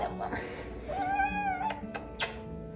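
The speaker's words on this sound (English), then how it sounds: "I'm about to feed the cats, but here's one of them." A cat meows in the morning before being fed, a clear drawn-out meow followed by shorter cries over household background noise, with a person talking nearby.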